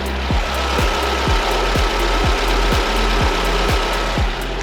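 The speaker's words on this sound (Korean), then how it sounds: "바로 영상으로 엔진 소음 한번 담아보도록 하겠습니다" A Lexus ES300h hybrid engine idles steadily and loudly up close, with a regular rhythmic ticking pulse about twice a second and no talking.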